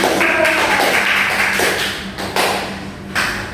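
Pupils clapping for a group in an elementary school classroom: steady, dense tapping applause lasting several seconds, fairly loud and close, with a few stronger claps near the end.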